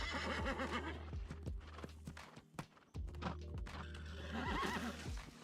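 A horse whinnies loudly in the video game New World, with rhythmic clip-clopping hooves under it. A second long whinny follows after a brief gap.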